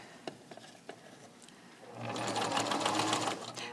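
Sewing machine stitching an elastic waistband casing starts up after a few faint clicks and taps, then runs in a close, steady whirring hum.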